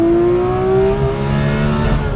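A 2020 Porsche 718 Boxster Spyder engine revs hard toward 9,000 RPM, a loud close tonal wail climbing steadily in pitch with no talking over it.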